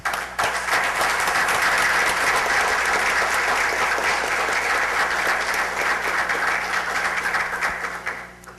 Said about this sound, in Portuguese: fazendo uma salva de palmas para eles